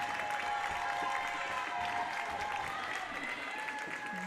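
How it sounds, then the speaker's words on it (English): Steady applause and cheering from the home crowd at a girls' regional semifinal basketball game greet the seniors, a continuous clapping wash with a commentator's voice over it. "they're getting a round of applause"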